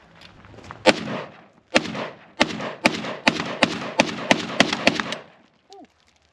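Semi-automatic, California-legal registered gun fired at and around a target outdoors: about a dozen sharp, loud shots in an uneven string, with a little quieter noise before and after.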